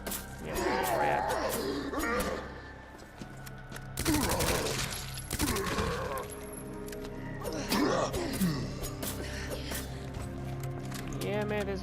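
Handgun shots in the Resident Evil 2 Remake game, a few sharp cracks around the middle under a busy game soundscape with creature growls and someone talking.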